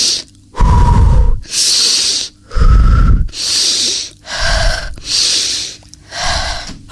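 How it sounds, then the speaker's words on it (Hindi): Loud, heavy breaths in and out, alternating deep inhales and exhales in a slow steady rhythm, close up with no talking. "मैं अपनी सांसों की आवाज ऊंची कर सकती हूँ।"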